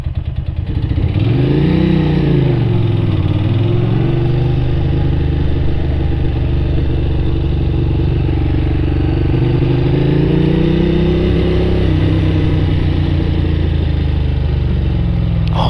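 A Ducati 600 Supersport motorcycle engine runs loud and close at a seafront bike park, with a couple of slow revs rising and falling early before settling into a steady, throbbing low idle.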